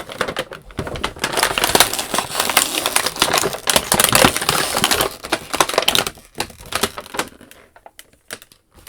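Brittle, disintegrated plastic tie fragments are picked and pulled from a toy packaging tray for Marvel Legends action figures, making dense, continuous crackling and crinkling up close that thins out toward the end.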